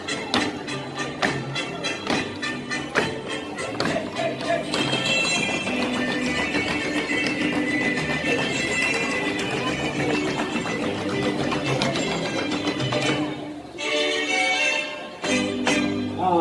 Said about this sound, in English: They might show you their Romeo show horse tricks